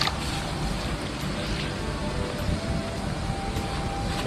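Water pours steadily over newly planted melon seedlings set into holes and covered with bokashi, giving a continuous, loud, broadband hiss like heavy rain with no pauses and no talk.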